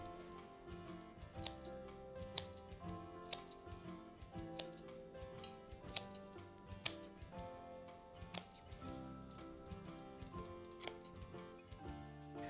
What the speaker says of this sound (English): So I'm cutting through the interfacing, the outside and the inside.